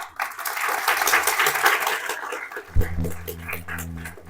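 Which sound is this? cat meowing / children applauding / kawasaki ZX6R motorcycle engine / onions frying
children applauding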